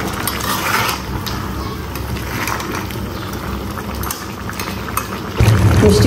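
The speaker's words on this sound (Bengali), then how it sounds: "সিদ্ধ হইতে থাকে।" Pumpkin curry with onion and green chilies bubbling steadily in a pot, a continuous close, moderately loud simmering hiss with small pops, swelling louder near the end.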